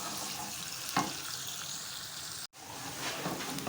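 Onion frying in a pan for moong dal, a soft continuous sizzle close by, with a light clink near the start and a brief cut to silence midway.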